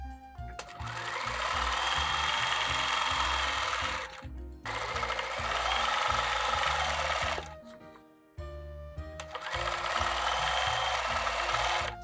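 A sewing machine stitches a pointed loop-to-loop design in three long, steady runs separated by brief pauses, loud and close with no talking.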